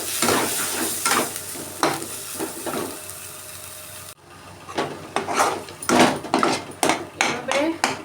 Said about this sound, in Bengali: এভাবে নাড়তে নাড়তে যখন এগুলো জলগুলো শুকিয়ে আসবে তখন নামিয়ে নিতে হবে।